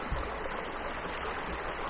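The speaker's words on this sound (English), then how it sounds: "Bit of fast water and a lovely slack on the inside here." A small river on a winter afternoon rushes fast past an obstruction upstream, making a steady, close, broadband wash of flowing water with no talk over it.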